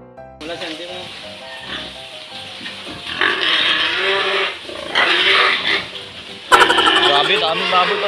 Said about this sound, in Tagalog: Grabe, daming baboy pala dito, Vic.